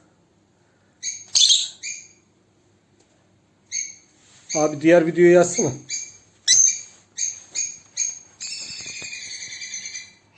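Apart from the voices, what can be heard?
paradise parrot call played from video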